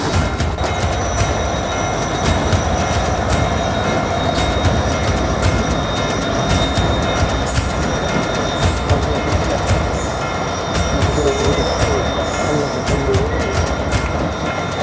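A train runs along a railway line through a residential ward, loud and close, with continuous wheel rumble, rhythmic clatter and occasional metallic squeals throughout.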